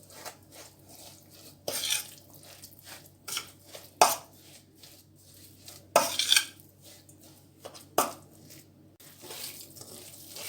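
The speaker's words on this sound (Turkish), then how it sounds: "3 yemek kaşığı sıvı yağ ekleyip karıştırıyorum." Oil is stirred into a chicken meatball mixture in a bowl, with scattered scraping and clinking of a spoon against the bowl in uneven bursts over a quiet background, close by and moderately soft.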